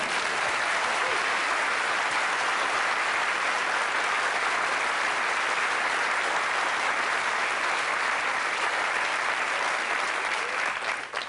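Sustained, loud audience applause from a television studio crowd at a magic show, a dense steady roar of many hands clapping together for about eleven seconds, tapering slightly at the very end, with no talking over it.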